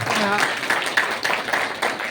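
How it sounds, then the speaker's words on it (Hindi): An audience at a reservation-rights meeting gives someone speaker a hearty round of applause, dense steady clapping throughout with a voice speaking over it. "बहन जी के लिए एक जोरदार ताली पाए"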